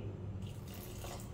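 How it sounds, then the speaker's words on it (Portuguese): Water poured from a tap into a stiff bread dough made with butter and peanut flour, a steady close splashing hiss lasting the whole moment, with no talking. "Então, a gente vai colocar um pouquinho de água."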